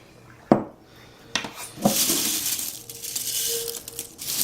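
Dried green onions tipped into a glass jar, a few sharp clinks and rattles at the start followed by a steady dry rustling and pattering as the pieces pour in, close and fairly loud with no talk.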